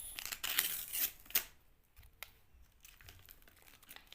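A plastic bag being opened by hand up close, with sharp crinkling and tearing bursts at first that thin out into softer, scattered rustles.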